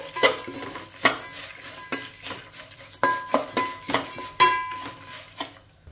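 Chili powder and salt being stirred into puffed rice for Rayalaseema-style spicy borugulu, a spoon scraping a metal pan in a steady run of close, sharp clinks and strokes with a faint sizzle beneath, no voices.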